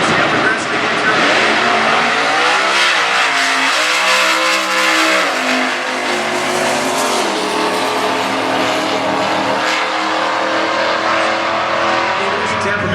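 Stock class drag racing cars, including a Ford Cobra Jet, sit loud and continuous at the starting line, engines revving and roaring steadily at close range with a commentator talking over them.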